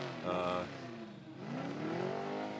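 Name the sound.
race car engine revving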